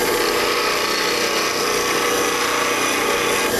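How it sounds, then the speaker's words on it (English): Spindle roughing gouge ground on a bench grinder during woodturning tool sharpening, giving a steady, loud, continuous hiss-like grinding with no break and no talk. "another tool that I grind on this that is similar is my spindle roughing gouge"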